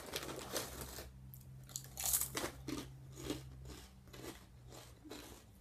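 Someone bites and chews Tao Kae Noi tempura seaweed snack, close and quiet, with a series of sharp crisp crunches and crackly chewing bursts, and nobody speaks.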